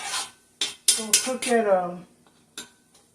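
A utensil stirs and scrapes flour around a pan for shrimp alfredo, making several short clinks and scraping strokes, with a person talking over the stirring.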